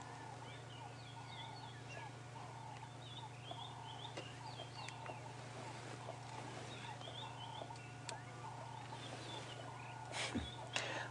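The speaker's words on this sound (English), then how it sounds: "There you can hear all the birds calling now." Birds call on an African safari at sunrise: many faint, distant chirps and gobbling calls overlap above a steady low engine hum, with one louder knock near the end.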